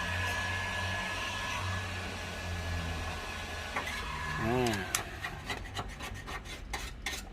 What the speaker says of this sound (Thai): ถ้าเป่าร้อนจัดๆเอาทีเดียวเลย เดี๋ยวย้วยเลย